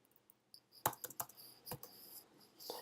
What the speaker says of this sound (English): I type my query right.